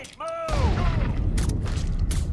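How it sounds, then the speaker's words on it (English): A grenade goes off in the Mafia video game, a loud booming blast that follows a shouted warning and rolls on with dense rumbling debris and crackling. "Grenade!"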